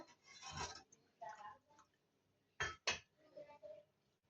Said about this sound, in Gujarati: અને બરાબર મિક્સ કરી લઈશું